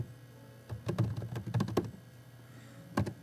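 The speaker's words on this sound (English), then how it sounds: "You just type in your web address." Light, scattered keystrokes on a computer keyboard as a web address is entered, a handful of soft clicks in short clusters against quiet room hum.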